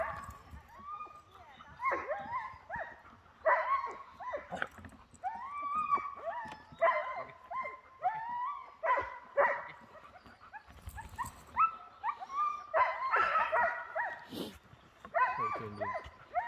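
Sled huskies barking and whimpering excitedly in a continuous, overlapping chorus, close by, with a voice speaking briefly among them.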